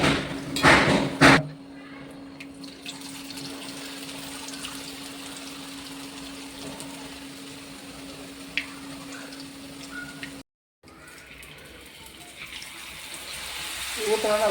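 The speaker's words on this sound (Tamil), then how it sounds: "ஊற்றினாலும் அப்படியே பொரிச்சு அப்படியே மேலே வருது." Boondi batter drops sizzling and frying in hot oil for Diwali laddu, a steady broadband crackle running throughout with a louder splash near the start and a brief cut near the end.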